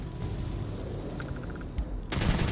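Burst of gunfire in the space game Starfield, a dense loud volley erupting near the end after a stretch of softer background noise and a few short beeps.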